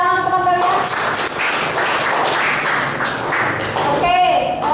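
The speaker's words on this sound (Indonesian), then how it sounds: "Oke, tepuk tangan teman kalian." Classmates in a school classroom break into a burst of applause for a fellow student, a dense wash of clapping with cheering voices rising over it near the end.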